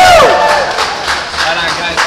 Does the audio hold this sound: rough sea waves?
no